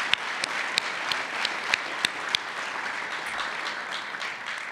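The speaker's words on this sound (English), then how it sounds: "Let's give our speakers another round of applause for getting up on stage today." An audience applauds forum speakers after their stage talks at the Ware Center, giving steady, fairly close clapping that holds for several seconds, with sharper individual claps standing out from the dense wash of hands.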